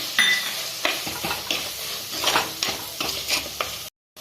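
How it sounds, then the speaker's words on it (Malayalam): Turmeric and roasted chilli powder sauté in hot oil as the masala base for crab curry. A close, continuous sizzle runs under several scraping stirs, then cuts off abruptly near the end. "അതിനാണ് ഈ എണ്ണയിൽ ഞാൻ ആദ്യമേ ഈ മസാലകളൊന്ന് വഴറ്റുന്നത്"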